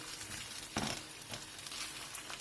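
Rice sautéing in butter in a pot, a soft continuous sizzle with a brief louder scrape or stir near the start, quiet and close with no talking.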